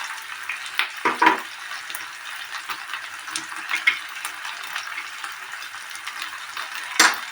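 Spices with salt and turmeric sizzle in a pan while being stirred. The frying crackles softly and steadily, with a few louder scrapes and clinks of the spoon.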